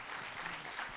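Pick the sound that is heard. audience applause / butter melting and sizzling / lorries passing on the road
audience applause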